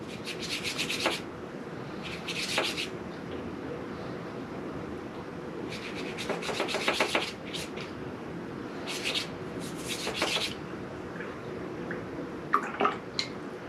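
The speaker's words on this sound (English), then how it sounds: "Then I'm going to get my brush wet and pick up that watercolor." A wet brush dabs and rubs pink watercolor on an acrylic block, soft repeated scrubbing and swishing strokes in short bursts, close and quiet with pauses between.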